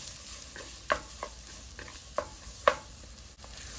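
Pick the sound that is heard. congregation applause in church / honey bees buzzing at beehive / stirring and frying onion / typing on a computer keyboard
stirring and frying onion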